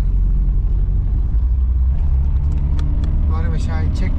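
A loaded car strains on a rural village road during a Hıdırellez gathering, its engine a low steady rumble close by, while people talk loudly over it.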